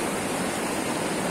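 A swollen river at Bagar Kot in Dharan rushes by as a loud, dense, steady roar of churning water, heard briefly with no voices.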